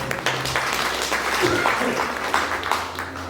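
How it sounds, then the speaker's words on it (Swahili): A church congregation claps during a sermon, a dense patter of applause from a crowd mixed with voices for a few seconds. "Tumpigie Bwana makofi."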